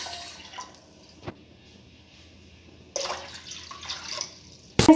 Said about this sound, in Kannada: 2 ಲೋಟದಷ್ಟು ನಾನು ನೀರು ಹಾಕೋತಾ ಇದ್ದೀನಿ